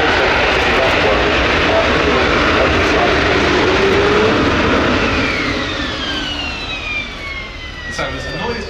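A Spanish Navy EAV-8B Matador II Harrier jump jet hovers at the RIAT 2024 airshow, a loud, dense roaring jet blast with whining tones, gradually easing as a voice speaks over it.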